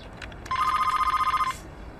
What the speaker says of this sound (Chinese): 勇哥，接下电话。